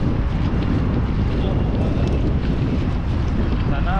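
Strong wind gusting at sea during a fishing trip, a steady, loud roar of wind buffeting the microphone with a low rumble underneath throughout.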